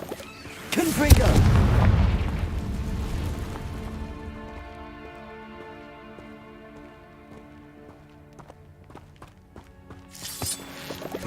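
A Confringo spell explosion in the video game Hogwarts Legacy hits as one loud, low boom near the start, then a long fading rumble with light patter and faint taps before a brief sharp crack at the end.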